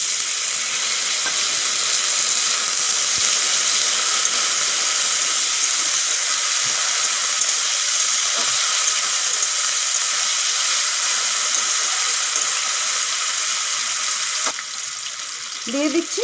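Garlic and potato frying in hot oil for a Bengali dhundul sag bhaja: a steady, loud, even hiss of sizzling that holds unbroken for the whole stretch, with a faint clink near the end.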